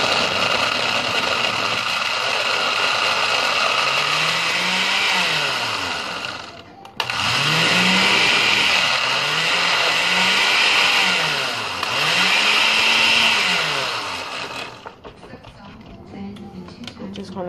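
A blender whirs loudly and steadily as it mixes a breakfast smoothie with almond milk, the motor pitch rising and falling in waves, with a brief dip midway and the sound winding down near the end.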